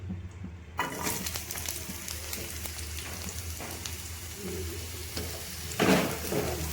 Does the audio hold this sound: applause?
no